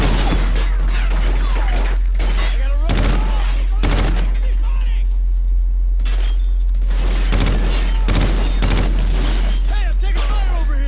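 Rapid bursts of gunfire and explosions in the shooter game Call of Duty: Ghosts, loud and repeated throughout, with several sharp clusters of shots and booms.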